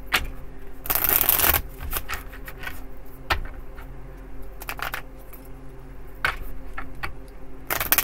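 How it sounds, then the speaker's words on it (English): A deck of tarot cards being shuffled by hand, with repeated riffling, flicking bursts and softer sliding in between, close and fairly quiet, with no talking. "I'm going to shuffle these for a minute"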